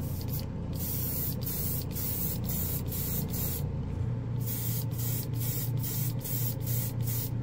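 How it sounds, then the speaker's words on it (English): Mr. Clear Color GX green lacquer sprayed from an airbrush over gold paint, a steady close hiss of spray with a faint low compressor hum beneath, brief rhythmic interruptions as the trigger is released and pressed again. "We're gonna go with a lacquer here with Mr. Clear Color GX."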